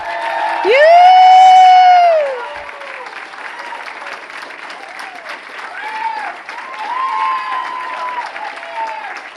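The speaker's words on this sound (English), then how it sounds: "Please, a round of applause for an incredible woman leader, Maggie Cavallaris." Applause and cheering break out at a gala as a woman leader is honoured: a loud whooping shout rises over clapping, then the crowd keeps applauding with scattered calls and cheers nearby.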